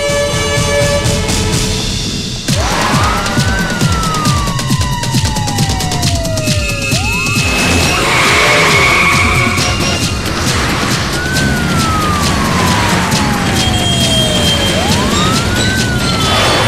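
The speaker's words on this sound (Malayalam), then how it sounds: "ഹോസ്പിറ്റലിൽ നിന്ന് ആംബുലൻസ് പുറപ്പെട്ടു കഴിഞ്ഞു." An ambulance siren wails in a film climax scene, its tone sweeping up and down in long, repeating glides over a loud, dense background of traffic and action sound, with no speech.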